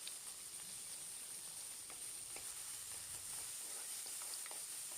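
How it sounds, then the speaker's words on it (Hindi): Onion frying with green chilli and cumin in a pan, a faint steady sizzle with soft crackles and occasional stirring scrapes throughout. "प्याज को अच्छे से यहाँ पे फ्राई करना है।"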